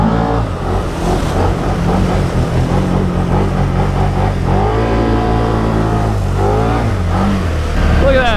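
A Can-Am Outlander 1000 ATV engine revs hard and loud through its stock exhaust, pitch sweeping up and down with a raspy tone, close by.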